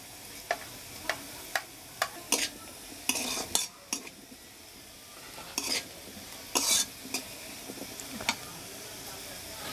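Cumin seeds are tempered in hot oil in a pan while cooking vegetable biryani. A soft sizzle runs under sharp, irregular clinks and scrapes of a metal spoon as they are stirred, with faint voices nearby.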